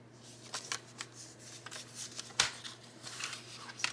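Scissors snip through paper while crafting journal ephemera, a quiet sequence of short crisp cuts scattered irregularly at close range with no talking.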